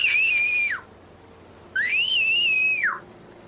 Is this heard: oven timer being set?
no